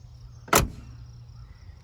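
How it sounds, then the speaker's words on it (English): A door on a 1986 Mercury Grand Marquis LS swings shut with a single solid thud midway through, standing out sharply over a low idle-like hum with no talking. "You can see how nice and easy the doors shut."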